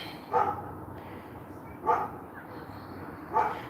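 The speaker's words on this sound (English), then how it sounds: "there is an unhappy dog down the street." A dog barks from down the street in a neighborhood, three single barks spaced evenly about a second and a half apart, distant but distinct over quiet evening background noise.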